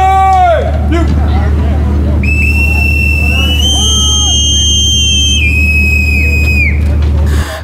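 A shrill, prolonged naval pipe whistle sounds aboard a Myanmar Navy frigate as officers board, sustained tones over steady engine rumble and crowd babble with people talking.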